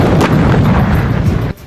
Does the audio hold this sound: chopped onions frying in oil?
no